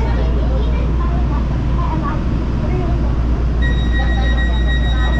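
An LA Metro train rides the rails in Los Angeles, California, heard from inside as a loud, steady rumble with a constant low drone. Faint high squeals from the wheels emerge toward the end.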